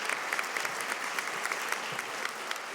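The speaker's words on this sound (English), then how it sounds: "We can clap one more time." Graduating nursing students and guests at a commencement ceremony clap together, a soft, distant, even patter of many hands filling a large room, steady and continuous.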